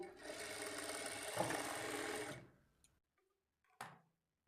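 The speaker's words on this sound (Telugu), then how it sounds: "ఇప్పుడు మనం కట్ చేసుకున్న ఈ పీసెస్ని జాయింట్ చేసుకోవాలి." A sewing machine runs steadily for about two seconds, joining cut strips of fabric for a plain blouse, then stops; a few faint clicks follow and a short, sharp rustle or handling noise comes near the end.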